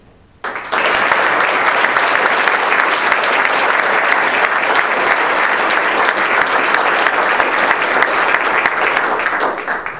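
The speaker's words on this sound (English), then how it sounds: "I want you to join me this evening in applauding their dedication and determination" A crowd at a political victory speech breaks into applause, loud dense clapping that starts abruptly and holds steady for nearly ten seconds, tapering slightly at the end.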